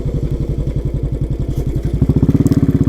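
A motorcycle on a road trip toward Srisailam and Paladhara Panchadhara thumps along with a loud, close, rapid engine pulse that quickens and grows punchier near the end, with no talking.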